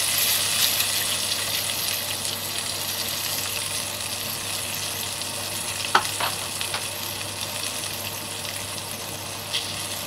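Green chillies sizzle steadily in a hot pan for egg biryani, a continuous close frying hiss with a few brief clinks of stirring near the end, no voices.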